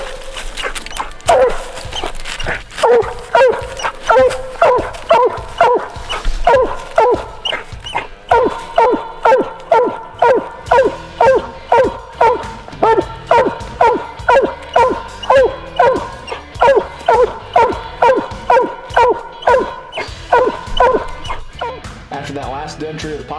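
Black and Tan Coonhounds on a coon hunt bark in a long, rapid string of loud, steady bawls and yips, repeating close by for over twenty seconds with little pause.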